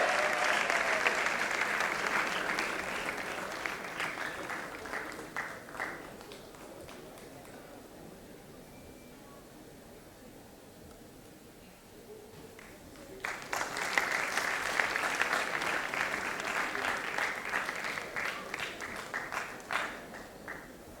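Audience applause at a staff felicitation ceremony honoring 25+ years of service: loud sustained clapping that fades to a quiet lull midway, then swells again into a second strong round.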